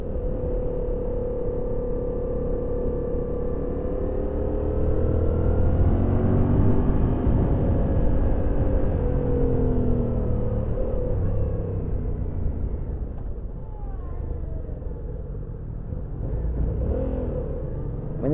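A 2014 Yamaha MT-07 motorcycle engine hums low and quiet during a ride at low revs, a steady rumbling drone that rises slightly and then eases off, with no talking.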